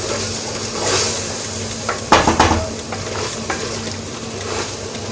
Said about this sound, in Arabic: ونزيد هاد الثومه غتشحرش مزيان